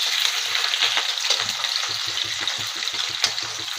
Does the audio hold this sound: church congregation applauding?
no